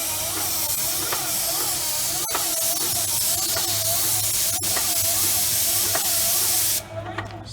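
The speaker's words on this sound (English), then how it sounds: "that is spraying about 8 to 9 feet on the other end of these 10-foot pieces of spiral" DP 2540 black antimicrobial coating sprayed through a 40-inch extension wand inside 10-foot lengths of spiral duct: a loud, steady, close hiss with a faint rhythmic pulsing that runs unbroken, then cuts off abruptly near the end.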